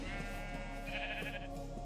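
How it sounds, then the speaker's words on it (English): Minecraft sheep bleating in a wavering, steady electronic-sounding bleat over a faint game background, with no speech. "And some sheep."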